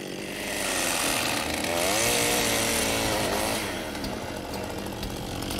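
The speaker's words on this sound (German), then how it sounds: "So habe ich ergonomisch eine sehr gute Ausgangsposition und kann die Säge so gut anwerfen." A chainsaw is pull-started by a young farm trainee and then run up, its engine revving loudly and steadily throughout with a rising and falling pitch, close by, with no talk over it.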